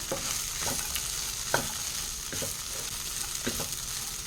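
Okra (bendakaya) fry gets stirred, a soft continuous sizzle underneath a few distinct scrapes and clacks of a spoon against the cooking vessel, spaced irregularly and close up.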